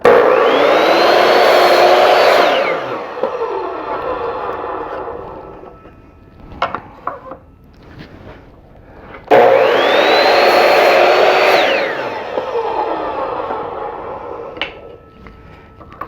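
A power saw cuts wood pieces for a clock box: two loud, close whining cuts, each winding up, running about three seconds and spinning down, with quieter clatter of wood being handled between them.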